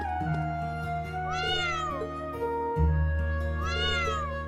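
A cat in the video game Trails of Cold Steel IV meows twice, rising and falling calls spaced apart over steady background music, with no talk.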